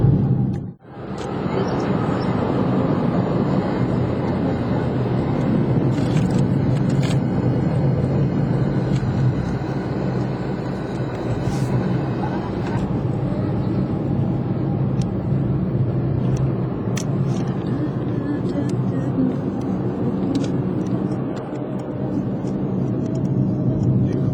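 A car on a long road trip fills the scene with a steady, loud interior engine and road rumble that holds evenly throughout, with no speech heard.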